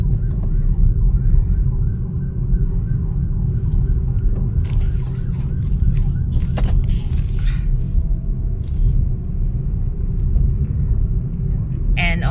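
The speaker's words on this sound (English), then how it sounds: "there's an ambulance on my back, but the other lane is open, so he can just go there" An ambulance siren wails behind a car on a road, its tone rising and falling over a constant low engine and road rumble heard from inside the vehicle.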